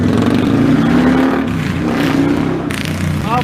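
A motorcycle engine revs loudly and close in a public park, its pitch climbing and falling in a sustained roar with a few sharper rises near the end.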